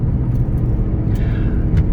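A 750-plus horsepower 2011 Shelby GT500 convertible accelerating with traction control on, a loud, dense low engine rumble heard close and steady, with no talk.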